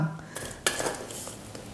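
A few light metallic clinks of a measuring spoon tapping against a container as loose tea leaves are added for brewing, brief and close in a quiet room.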